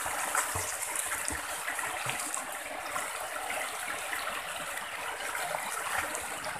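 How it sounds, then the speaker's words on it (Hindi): A river flows steadily at a bathing spot, giving a continuous broadband rush of water that stays even and fairly close throughout with no voices. "देखिए, पानी बह रहा"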